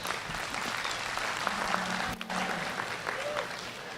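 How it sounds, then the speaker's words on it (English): A crowd at a county fair 4-H/FFA market steer show applauds a class winner, a steady spread of clapping at moderate distance with faint background murmur and a brief tone cutting in midway. "Let's give him a round of applause."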